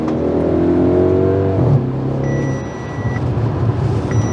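An Audi S5's V8 engine and exhaust rev hard and loud, with a rising roar that drops back to a steady, throbbing idle.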